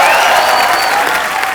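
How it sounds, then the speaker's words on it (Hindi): Studio audience on a TV comedy show bursts into loud, dense applause, a steady wash of clapping that fills the whole moment and fades slightly at the end. "जोरदार तालियां"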